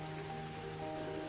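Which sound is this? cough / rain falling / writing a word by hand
rain falling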